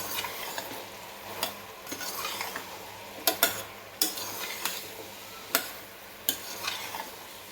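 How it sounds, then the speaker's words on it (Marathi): Pav bhaji masala is stirred into vegetables in a pan, with repeated sharp spoon scrapes and taps against the pan over a soft, steady sizzle, close and without talk. "हा जो पावभाजी मसाला मी घेतला होता रेसिपीमध्ये तुम्हाला दाखवलेला आहे, त्यातलाच मी 2 चमचे त्यामध्ये घातलेला आहे बघा. मिक्स करून घ्यायचं आहे व्यवस्थित."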